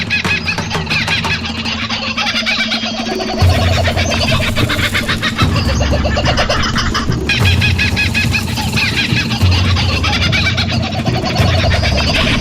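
Jungle animal sound effects play on a 96.9 FM radio broadcast, with chicken-like clucking and bird calls layered over a continuous loud, busy background of animal noises throughout.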